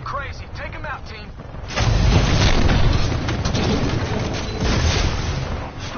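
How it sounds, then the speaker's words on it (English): Heavy booming blasts from mortar Titans launching rockets at a harvester in a video game battle, a rumbling barrage that swells louder after a couple of seconds and keeps pounding. "There are mortar Titans launching rockets at the harvester."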